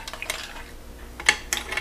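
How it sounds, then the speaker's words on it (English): A spoon stirs sauce in a cooking pot on a home stove, making a few light clinks and scrapes against the metal with quiet gaps between them and no talking. "I'll mix it."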